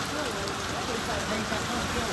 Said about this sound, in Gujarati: વરસાદ બીજી રીતનો વરસાદ પડે છે.